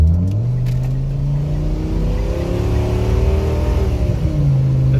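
Camper van engine revving hard under full acceleration, a loud, steady drone close by whose pitch climbs and then eases back over several seconds, with no talking.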